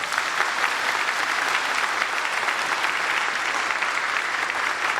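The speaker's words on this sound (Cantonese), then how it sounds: "我哋都俾啲掌聲我哋啲同學好嘛？" Steady, full applause from a large crowd at a school graduation ceremony, continuous clapping at an even level throughout.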